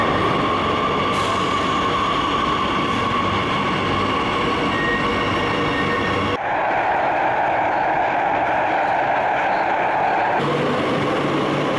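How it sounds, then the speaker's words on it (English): Continuous loud rumble of a Madrid metro train in motion between airport terminals, steady roar of wheels and motors with shifting tone as the ride goes on. "which is why I'm here taking the metro"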